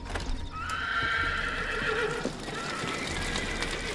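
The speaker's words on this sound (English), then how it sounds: "We need to get the horses out of the barn!" Horses at a barn whinny loudly in a long, shrill neigh near the start, with hooves clip-clopping and knocking close by and a few further snorts and movements after.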